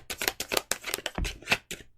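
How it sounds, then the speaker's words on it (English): Tarot cards are shuffled close up, a quick series of crisp slaps and riffles in an uneven rhythm, with no talking. "let me finish shuffling and then I can."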